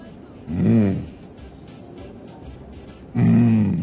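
A voice imitates a lion's roar twice, each a short throaty growling burst separated by a quiet gap, close and fairly loud in a television studio setting.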